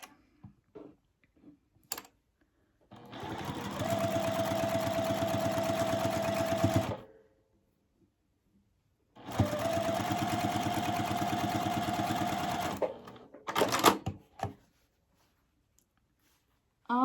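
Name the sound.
sewing machine stitching a quilt seam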